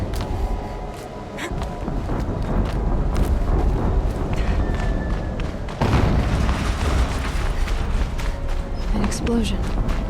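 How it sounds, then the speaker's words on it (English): Explosions in the video game Horizon Zero Dawn: a loud, dense stretch of booming, rumbling blasts and thuds with a sharp new burst partway through, continuous without pauses. "Explosion."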